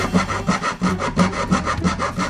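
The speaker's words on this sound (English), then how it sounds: "I bought this saw from the dollar store. And I think it was to cut plastic like PVC piping." A cheap dollar-store hand saw cuts through plastic CDs in quick, regular back-and-forth strokes, about three per second, rasping and close-up with no talking.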